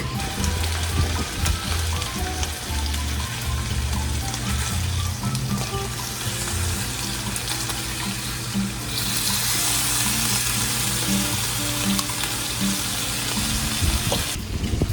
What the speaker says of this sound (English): real quick, I'm gonna flip over the bacon